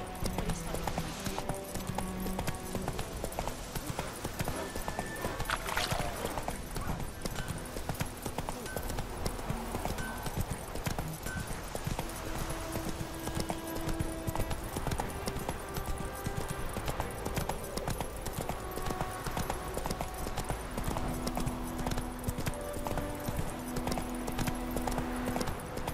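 Roach trots in The Witcher 3, hooves clip-clopping in a quick, even rhythm that carries on for a long stretch, with occasional muffled voices and game ambience underneath.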